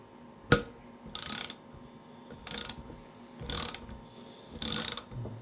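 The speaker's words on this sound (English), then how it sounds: "So as I ratchet this," Hand ratchet compressing valve springs on a Chevy Camaro SS LS3 engine, several separate bursts of rapid clicking pawl strokes with short pauses between, close and fairly quiet.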